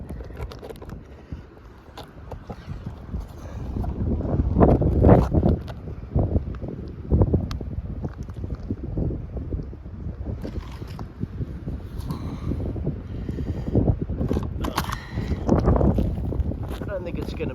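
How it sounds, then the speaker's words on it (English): Strong outdoor wind buffeting the microphone in gusts, with deep rumbling blasts rising and falling over about eighteen seconds and faint handling knocks scattered throughout. "It's so windy, I'm afraid the camera might even blow over."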